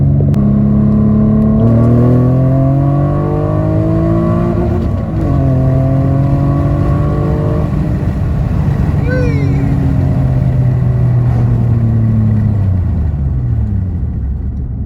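A car engine revs and climbs through the gears, its pitch rising steadily with each shift, loud and close throughout.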